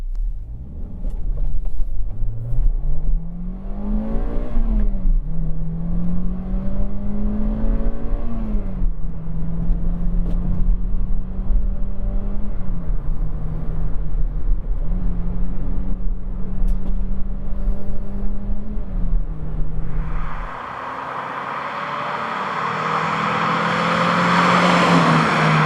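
A Toyota Celica VVTi T230 with a 140 hp engine drives along a road, its engine note rising and falling steadily through gear changes for about twenty seconds before tyre and wind roar take over at the end.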